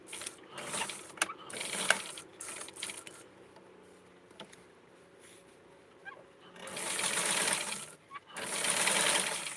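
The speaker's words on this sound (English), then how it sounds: "So now I am going to sew this." Sewing machine stitching a doll dress runs in two sustained bursts near the end, with quieter handling and fabric rustle between them.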